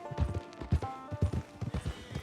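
Horse hooves clip-clopping in Red Dead Online, a steady trotting rhythm of close, distinct hoof strikes with a brief whinny and faint background music.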